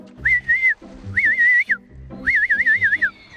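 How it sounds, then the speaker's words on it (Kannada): A cartoon character whistling: three short warbling whistled phrases separated by brief gaps, the last one longer and wavering, clear and close. "ಸೀಟಿ ಹೊಡಿ, ಸೀಟಿ ಹೊಡಿ"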